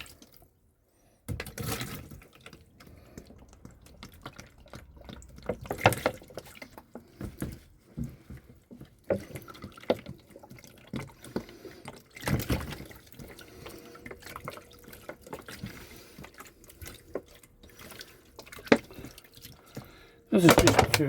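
Water splashes and trickles over a plant pot being washed off during potting up, in irregular nearby bursts with drips between them.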